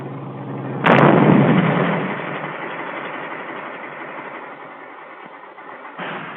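A WWII army bazooka fires its rocket in one sudden loud blast, followed by a long rumbling roar that slowly fades, with a second softer thump near the end, heard on an old training film soundtrack.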